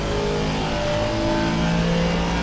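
Aston Martin V8 race car engine in the ACC racing game at COTA, a steady loud mid-pitched drone with shifting harmonics as revs rise and fall, continuous throughout with no talk.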